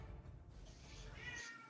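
A cat meows in a high, drawn-out cry that rises over steady low background rumble, heard close and moderately loud with no talking.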